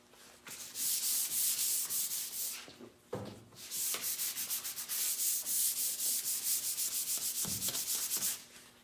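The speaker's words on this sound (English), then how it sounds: "This also had a sticker here, so I think that this will sand off." Sanding a painted wooden furniture piece to take off a sticker, a steady rasping scrub repeating in long back-and-forth strokes, close and loud, with a brief pause partway through.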